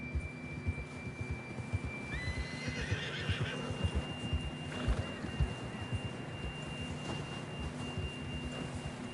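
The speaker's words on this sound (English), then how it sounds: "John was riding that horse when we left Blackwater." A horse in Red Dead Redemption 2 whinnies faintly over a constant rumbling background of hoofbeats and hum, with a steady tone running across.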